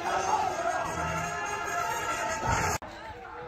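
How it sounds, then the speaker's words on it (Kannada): Large, dense crowd at a village fair (jatre) with a play being staged nearby, a continuous roar of many voices and shouts close around, cutting off abruptly near the end. "ಸ್ವಲ್ಪ ಕ್ರೌಡ್ ಜಾಸ್ತಿನೇ ಇದ್ರು."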